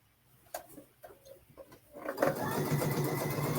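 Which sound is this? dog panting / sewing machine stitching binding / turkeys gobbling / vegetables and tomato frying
sewing machine stitching binding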